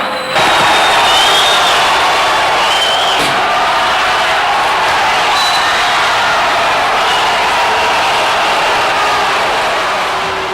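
A large festival crowd at a music event roars and jeers at a singer, a loud, sustained wash of voices from a packed audience.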